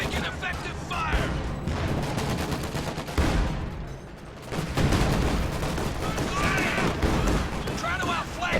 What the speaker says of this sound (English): SU-76 firing.